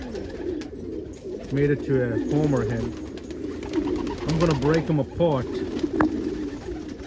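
Fancy pigeons, including fantails and an almond, coo in repeated throaty phrases nearby while someone talks over them.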